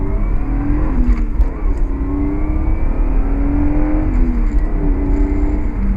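A Lexus IS300 sedan with a 215-horsepower engine accelerates hard, its steady loud engine drone climbing through the gears with no break, close up and alone for the whole stretch.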